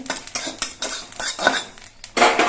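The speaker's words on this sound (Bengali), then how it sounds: "অল্প করে কিছু কালো জিরে ভেজে নিচ্ছি" Black cumin seeds frying in a small amount of oil in a kadai, stirred with a utensil: repeated metallic scrapes and clinks against the pan, fairly close, with a faint sizzle underneath and no talk.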